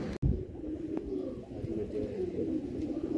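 A pigeon coos softly and repeatedly nearby, after a brief sharp thump at the start like a bird setting down.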